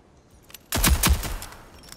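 Turret gunfire in the Rogue Company video game tutorial: a sudden, loud volley of a few rapid, booming shots that quickly fades into a short echoing tail.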